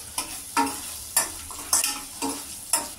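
Spices and soya chunks frying and being stirred in a pan for meal maker biryani, with a close, steady sizzle broken by regular scraping strokes of the spoon roughly every half second.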